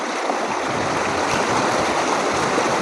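A flowing stream of cold water rushes steadily and loudly nearby, a continuous broadband splashing and gurgling with no pauses and no voices.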